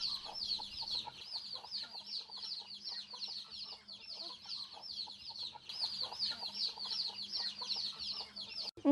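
Backyard chickens cluck steadily and close by in a continuous chorus of short, repeated calls, with a faint low hum beneath.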